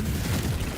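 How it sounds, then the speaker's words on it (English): A deep, rumbling explosion boom in the Death Stranding video game, a brief, dense low-end blast that fills the whole moment without a clear start or end. "That explosion."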